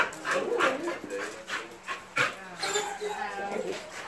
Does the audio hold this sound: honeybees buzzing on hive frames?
no